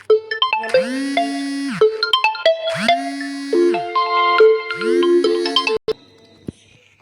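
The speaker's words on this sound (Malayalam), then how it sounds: "അത് ഗൈസ് പെട്ടെന്നൊരു ഫോൺ വന്നതാണ്." A melodic phone ringtone plays for an incoming call: bright chiming notes in repeated phrases, loud and close, cutting off abruptly after about six seconds.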